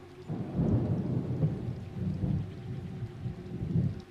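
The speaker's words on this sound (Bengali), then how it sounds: "বৃষ্টি আগের থেকে বেশ জোরে পড়তে শুরু করে আকাশ যেন ভয়ঙ্কর রূপ নিয়েছে" Heavy rain pours steadily beneath deep, rolling thunder that rumbles low and continuously in swelling waves, a stormy monsoon night with no voices.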